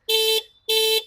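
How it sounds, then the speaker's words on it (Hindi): Two loud, steady electronic horn blasts from an Ola S1 Air electric scooter, each about a third of a second long and separated by a short gap, heard up close with no talking. "ये हॉर्न हो गया भाई इसका।"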